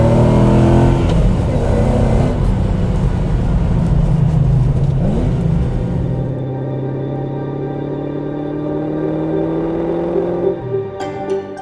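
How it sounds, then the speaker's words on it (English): An Aston Martin Vantage X-Pack V8 with sports exhaust roars loudly under hard acceleration, its pitch climbing, then settles into a lower, steady drone before a few throttle blips near the end. "in this car, with the sports exhaust, it just sounds fantastic"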